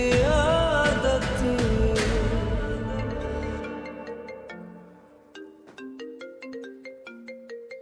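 A mobile phone rings with an incoming call, its bright, repeating melodic ringtone rising clearly as a swell of background music fades away, with no one speaking.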